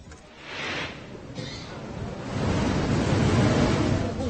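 Roaring floodwater of a swollen river in Uttarakhand during heavy monsoon rain, a broad continuous rushing wash that swells louder in the second half, with no talk.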